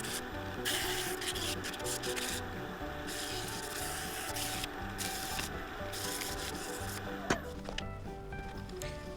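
Continuous close sanding on a wooden bowl on a woodturning lathe, a steady rubbing rasp with a busy machine hum underneath, ending with a small knock.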